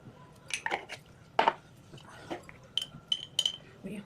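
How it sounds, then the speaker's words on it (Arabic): A spoon stirs a spiced cabbage stuffing mixture with paprika, black pepper, cumin and coriander in a bowl, giving scattered clinks and scrapes of utensil on dish, fairly quiet and irregular, with brief talk. "نقلب كل ده في بعض"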